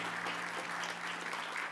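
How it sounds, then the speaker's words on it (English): Steady, dense applause from a graduation ceremony audience at Columbia International College in December 2017, a continuous clapping wash that fills the hall evenly from start to finish. "please, a round of applause"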